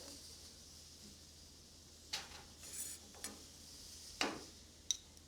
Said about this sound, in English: I'm using about 1 pound, cutting it into slices.